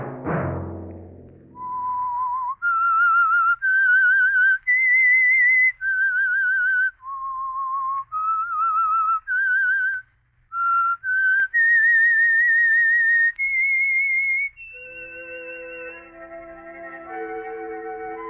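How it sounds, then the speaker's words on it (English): The radio mystery program The Whistler opens with its theme, a lone whistled melody of sustained, wavering notes following a short sharp attack, clean and close with no talking. "Let that whistle be your signal for the Signal Oil program, The Whistler"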